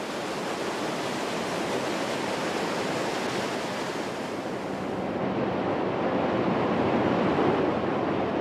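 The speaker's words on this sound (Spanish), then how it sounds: "En una caída sin fin, las aguas arrastran un tremendo caudal de 600 metros cúbicos por segundo" The Rhine Falls at Neuhausen, a wide waterfall carrying an enormous flow, roar as a dense, continuous broadband rush of falling water, loud and steady throughout with no voices.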